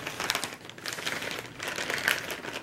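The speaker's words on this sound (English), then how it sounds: "I just grabbed a plastic bag that I have and will be using this to experiment on" A plastic bag being handled, crinkling and crackling in irregular bursts, close and fairly loud, with no talking.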